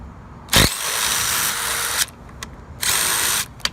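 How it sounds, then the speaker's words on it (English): An impact driver fitted with a number 14 socket works a bolt on a Honda Accord seat, giving two loud rattling bursts with a few short clicks and taps between them. "we're going to use our impact driver"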